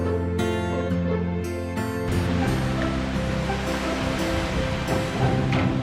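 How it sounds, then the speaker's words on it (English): Waves wash steadily against a boat out on the Sea of Galilee in Israel, a continuous near splashing churn with low engine-like rumble beneath, first half carrying a tonal hum that gives way to broader water noise. "We wrap up our day with a boat ride on the Sea of Galilee."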